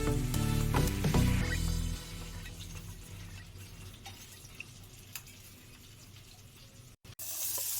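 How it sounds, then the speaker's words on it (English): Water is poured into a cooking pan with cornflour and stirred, a loud splashing pour at first giving way to quieter swirling, scraping and faint drips as it is mixed. "Add water 1/2 cup and mix it."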